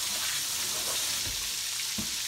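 Chicken gizzards fry in hot grease with a steady, dense crackling sizzle that holds at an even level, broken by a couple of soft low bumps from the pan.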